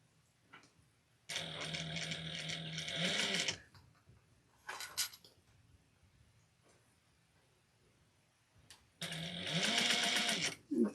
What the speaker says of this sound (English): I'm sewing like 1/8 of an inch to close the pocket.